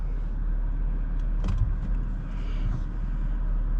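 A brand-new 2023 BMW X5 40i SUV rolls off on a drive, a steady low road and engine hum filling the cabin with a brief click and faint rustle midway.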